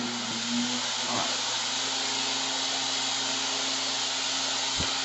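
An air track blower hisses steadily as a loud, broadband rush of air in a lab setting, continuous throughout with a few faint knocks and no talking.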